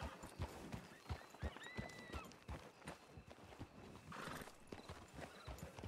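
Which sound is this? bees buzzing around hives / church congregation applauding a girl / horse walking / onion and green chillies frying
horse walking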